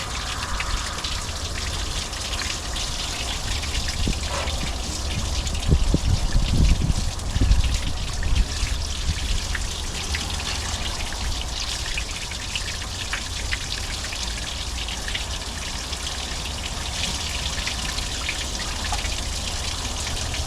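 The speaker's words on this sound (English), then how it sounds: "Let's try and do a back flush." A garden hose back-flushes water through the cooling system of a 1950 Dodge Meadowbrook, giving a steady close splashing and trickling with a slightly stronger gush partway through.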